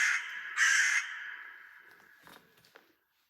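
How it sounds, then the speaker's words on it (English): A crow gives two loud, harsh caws close by, the second stronger, followed by a few fainter clicks and rustles as the sound trails off into silence. "I even have a taxidermy crow in my room called Edgar Allan Crow"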